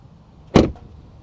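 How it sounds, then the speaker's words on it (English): The door of a 2020 Volvo XC90 T8 SUV shuts once, heard from outside as a single solid thud with a short muffled tail against a quiet background. "Here's how the door sounds from the outside"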